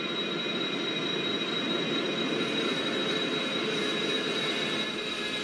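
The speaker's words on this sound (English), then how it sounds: "Mahajan Udaipur passenger train, which is led by Katni WDM3, a locomotive which is crossing over train." A passenger train led by a WDM3 diesel locomotive in the MSTS train simulator rolls along with a steady, even rumble and faint high metallic whine, moderately loud and without pauses.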